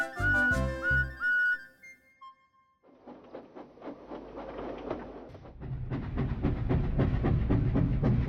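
A steam locomotive's whistle gives a few short tonal blasts, then fades into softer rumbling and chuffing mechanical noise that builds toward the end, with no talking.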